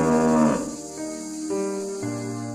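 A water buffalo moos in one long, loud, falling call, followed by quieter lowing tones over a faint background of crickets, with no voices.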